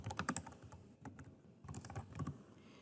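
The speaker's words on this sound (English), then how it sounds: "Here, you just click in the area and start typing your note." Soft, close keystrokes on a computer keyboard come in irregular bursts of quick taps with short pauses between them, quiet and alone.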